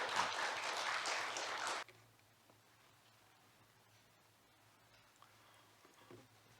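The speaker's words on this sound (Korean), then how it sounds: "환영의 박수 부탁드립니다." A church congregation at a nursing department gathering claps in welcome for a visiting pastor, a dense burst of applause that stops abruptly after about two seconds, leaving quiet room tone.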